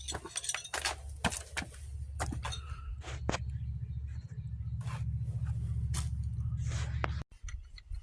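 Two 17mm wrenches work caps off the hydraulic fittings of an excavator, with scattered metallic clinks and scrapes over a low, steady engine hum. The hum cuts out suddenly near the end.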